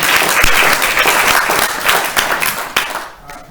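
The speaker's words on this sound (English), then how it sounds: "Can we get a round of applause for a friend of Washington?" Loud, dense applause from an audience at a climate forum, sustained clapping from many people that thins out near the end.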